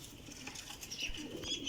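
A champion flying pigeon coos softly in short, low murmuring notes, with faint rustling and a few high chirps in a quiet outdoor loft.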